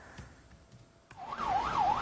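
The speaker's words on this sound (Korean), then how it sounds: "구급차와 경찰차의 사이렌 소리가 요란합니다" Emergency sirens from ambulances and police cars wail at a crash scene where a tour bus carrying kindergarteners collided with an intercity bus on a six-lane road in Seoul, rising loudly midway with a wavering up-and-down tone.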